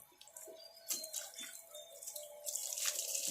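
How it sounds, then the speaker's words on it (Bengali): Water running from a hose pipe while an animal is being washed, a light, close splashing and trickling flow with small irregular drips and spatters, steady and fairly quiet with no talking. "বেলটা খুলে তো আমি পাইপ দিচ্ছি, পাইপ ধরছি, তুমি র্যাম্বোকে ধরো।"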